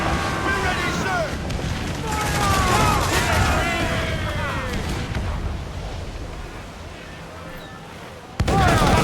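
Ship cannons firing in the Assassin's Creed video game, heavy booming blasts and rumbling over wind and sea noise, with a sharp loud burst near the end; voices speak intermittently.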